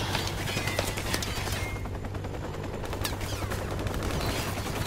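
Sustained machine-gun fire from an attack helicopter in Call of Duty Modern Warfare Remastered, with dense rapid bursts rattling continuously throughout and a steady low rumble beneath, loud and close.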